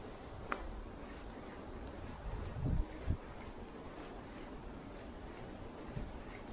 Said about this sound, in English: And it's raining and it's very windy.